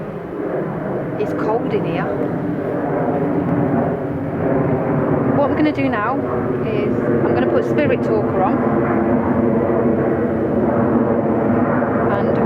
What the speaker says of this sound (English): So just let the plane go past.